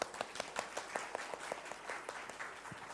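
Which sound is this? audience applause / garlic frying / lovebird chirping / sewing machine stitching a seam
audience applause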